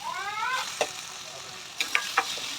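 Onion, green chillies, dried chillies and garlic sizzle and crackle in a pan at close range, with short scraping stirs and a few clinks, while a faint high squeak briefly sounds at the start.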